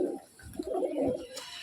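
A female pigeon gives a brief low coo while being held and examined, quiet and close, with a short rustle at the end.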